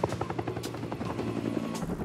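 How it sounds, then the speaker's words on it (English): A helicopter flying low, about 20 yards off the ground, roars close by, its rotor thumping in a fast steady beat beneath a loud engine whine. "The helicopter raced 20 yards off the ground to avoid enemy radar."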